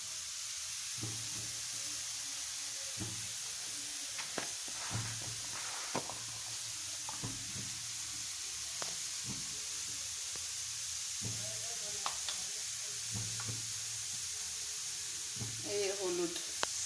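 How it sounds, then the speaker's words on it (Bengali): Small chopped potato pieces with salt and turmeric fry in oil, giving a quiet, steady sizzle with occasional stirring scrapes, while a voice speaks intermittently over it. "এটা দিয়ে ভালো করে তেল দিয়ে ভেজে নিচ্ছি"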